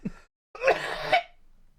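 A harsh, throaty cough from a person on a livestream, a brief low grunt followed after a pause by one long rasping burst that peaks twice and fades.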